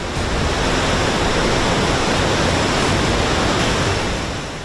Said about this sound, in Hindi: कई इलाकों में नदियों का पानी किनारों को तोड़ शहरों में घुस चुका है, जिससे सैलाब सड़कों पर दौड़ रहा है।